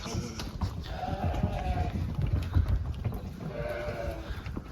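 Sheep of mixed Arashan and Edilboy breeds, around nine months old, bleating twice at a livestock market, the calls moderately distant over a constant murmur of background noise.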